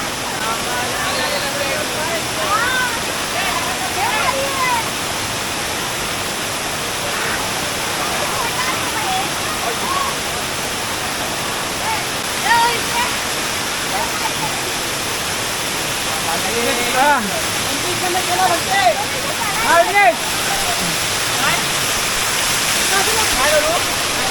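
A waterfall at Navale village in Sindhudurg roars in a loud, continuous rush close by, with people talking and calling out faintly over the falling water.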